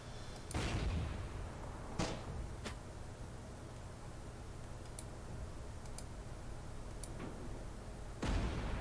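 Artillery unit in Panzer Corps 2 firing repeatedly: several sharp, fairly faint cracks spaced irregularly over a steady hiss, with one louder shot at the end.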